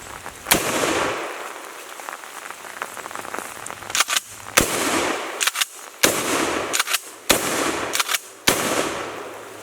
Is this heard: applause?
no